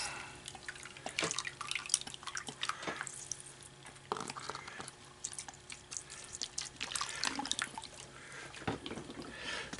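Water dripping and splashing faintly while a gold pan is rinsed out, scattered drips and small squishy splashes in an irregular rhythm, quiet and close, with no talk.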